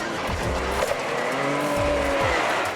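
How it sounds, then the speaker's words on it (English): Can-Am Maverick X3 off-road side-by-side, stripped down, with a 900cc turbo engine in the back, roaring loudly under hard driving, with shifting engine pitch and tire squeal as it is thrown around close by. "With that 900cc turbo engine in the back, our now stripped down Maverick can really throw us around."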